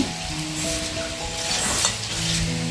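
Close, wet stirring of thick horse gram flour batter with coriander by hand, a steady squelchy churning, with a soft musical hum in the background.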